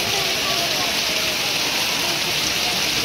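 Steady rain falls hard on the hilltop at Kapilas, a dense unbroken hiss that carries evenly through the whole stretch with no pauses.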